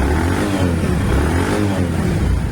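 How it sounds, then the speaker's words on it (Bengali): Bajaj Platina 102 motorcycle in new condition idling, a steady low close-up engine putter, alone. "বন্ধুরা, আমরা বাইকটার সাউন্ড দেখলাম"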